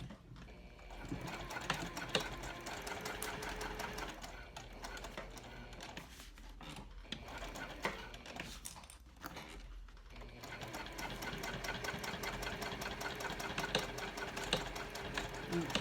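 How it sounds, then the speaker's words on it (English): A sewing machine stitches slowly across a cork trifold wallet, its needle running in a continuous close mechanical whir with brief pauses around the middle. "We're just gonna sew across it nice and slow."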